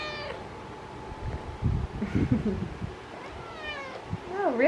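An orange cat meows repeatedly, with rising and falling yowls at the start and again near the end, close and clear, while someone talks to it softly in the middle.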